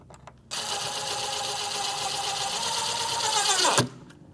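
A power driver runs in one steady, high-pitched whirring burst of about three seconds, tightening screws on a Studiomaster Core 151 loudspeaker cabinet, close and loud, then spins down and stops.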